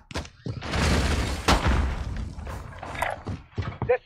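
A grenade detonating in the video game Warzone, a heavy rumbling blast that swells and lingers for a couple of seconds before trailing into smaller thuds and game noises.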